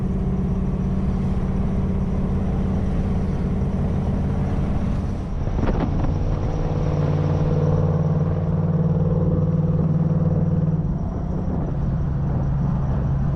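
A 1974 Ford Bronco drives along with a steady low engine drone and rumble heard from inside the cab, with wind noise and a brief bump midway, and no talking.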